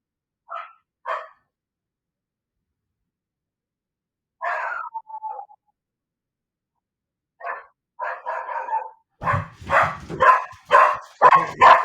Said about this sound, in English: Every time a dog goes by, in this case, I think a dog in a baby carriage or something.